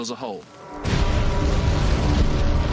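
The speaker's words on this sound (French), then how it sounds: "L'explosion a creusé un trou dans le sol." Artillery shell explosion from a World War I bombardment at the Somme: a sudden loud blast after a short opening with a voice, followed by a sustained rumbling roar that stays loud to the end.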